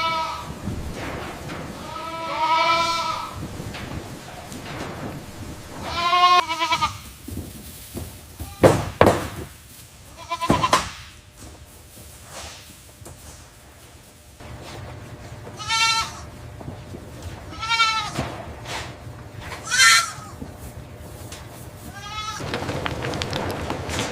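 Goats and young kids on a commercial farm bleat repeatedly, a series of loud, wavering calls spread across the scene, with a few sharp knocks and taps in between and a low farm background throughout.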